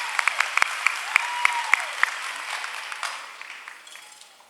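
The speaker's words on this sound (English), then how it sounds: "Let's give them a big round of applause." A commencement crowd applauds with scattered sharp claps over a steady wash of clapping that gradually fades out, heard from within the hall.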